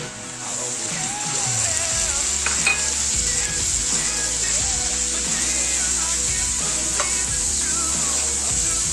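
Tomatoes sizzling loudly in a pan with peppers and meat for a sac tava dish, a dense, steady close frying hiss that never lets up, with faint music behind it.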